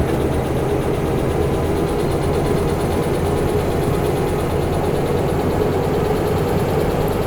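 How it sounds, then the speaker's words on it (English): Diesel-electric locomotive engine running in the train game Derail Valley, a loud, steady low drone with constant vibration, filling the whole stretch with no voices. "I can no longer hear it because it's drowned out by the engine"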